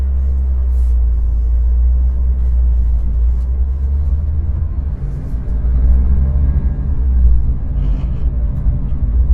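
A car pulls away from the kerb in front of a driveway on a demonstration drive, heard from inside as a loud, steady low engine rumble that swells slightly as it gets going.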